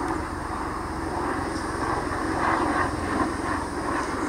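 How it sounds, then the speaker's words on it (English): A steady, droning helicopter rumble passes overhead, swelling slightly in the middle, with no talking. "As a helicopter goes by,"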